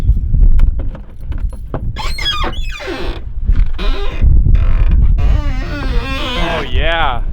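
A squeaky door on a second-generation Cummins truck creaks in high, wavering groans as it swings, close and loud, with rumbling noise and a little talk nearby.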